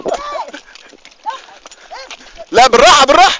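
Horse hooves clip-clop near the pyramids in Egypt, quiet scattered steps at first and then a loud, close burst of rapid clopping, with voices shouting over it.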